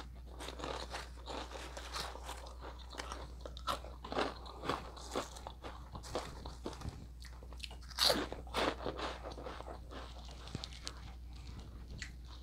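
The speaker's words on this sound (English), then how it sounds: "I just wanted to give you a solid 10 minutes of crunch." Someone crunches and chews potato chips from bags at close range. The bites come as sharp, irregular crackles over a low steady hum, with a louder burst partway through.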